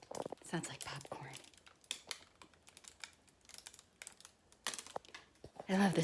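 Paper tears off hot polypropylene plastic in close, crisp crackles and crinkling pops, dense at first, thinning out, then bursting again before a louder rustle at the end.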